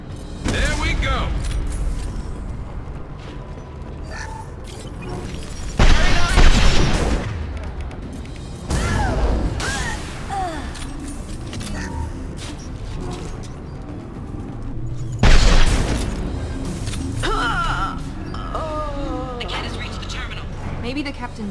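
Bursts of video-game gunfire aimed at enemies beyond a conveyor line, loud booming volleys around 6, 9 and 15 seconds amid continuous game noise, with a voice talking over most of it.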